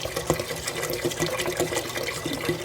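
Reverse osmosis water poured generously over beans in a pot, a continuous close splashing, gurgling flow with small bubbling surges and no voice.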